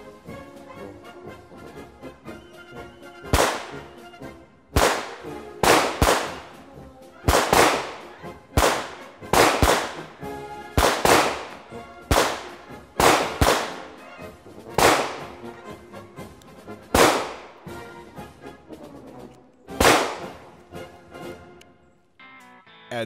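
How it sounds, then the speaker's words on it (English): A Browning Model 1922 pistol in .32 ACP and a German P38 in 9mm are test fired outdoors, with about fifteen sharp, loud gunshots in irregular succession, some in quick pairs, each ringing out briefly. "I have a Browning model 1922 and 32 ACP, and Paul has a German P38 in 9mm"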